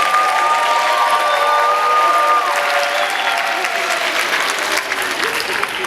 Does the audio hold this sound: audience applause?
yes